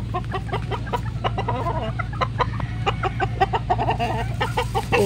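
Sweater breed chickens in a breeding pen cluck repeatedly in short, irregular bursts at close range, with a constant low hum underneath and no talking.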